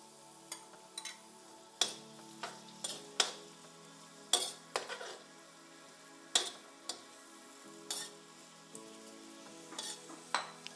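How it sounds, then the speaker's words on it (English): Onion sizzles in a pan while frying for stir-fried beans, a steady hiss broken by sharp crackles and pops at irregular intervals, close and alone with no talk. "That's the sizzling sound I like listening to every time I'm cooking."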